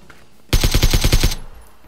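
Rapid automatic gunfire in the battle game PUBG: a loud close burst of about nine evenly spaced shots lasting under a second, then a short fading tail.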